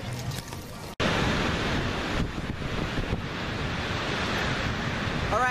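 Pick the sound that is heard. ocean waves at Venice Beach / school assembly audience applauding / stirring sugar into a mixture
ocean waves at Venice Beach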